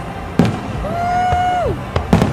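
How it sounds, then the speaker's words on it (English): Fireworks bursting at a Fourth of July show, with sharp bangs near the start and end and a long whistling rocket tone gliding down in between, loud and close. "I see more and more fireworks coming each second."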